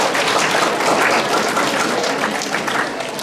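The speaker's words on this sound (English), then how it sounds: "Clap for yourself" Students at a school visit to the Colorado Muslim Society clap for themselves, a dense, steady round of applause from a group in a hall, sustained and fairly loud throughout.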